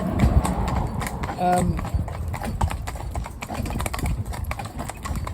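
Hooves of a horse named Cloud clip-clopping steadily while it is driven, a regular close rhythm of hoof strikes with a person talking over it.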